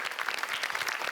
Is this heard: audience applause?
yes